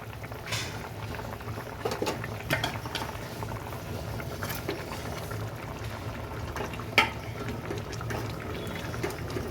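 Fish and potato curry bubbling steadily in a pot on the stove, a continuous soft simmering patter with occasional small pops and clinks, fairly close and with no talk over it.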